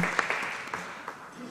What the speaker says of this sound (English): I really want a round of applause to Manoj Shah for all that he's trying to do in making a better Kenya